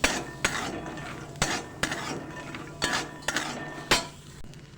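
Peanuts stirred in a pan while roasting, with a spoon scraping and clinking against the metal in repeated strokes, close and fairly quiet.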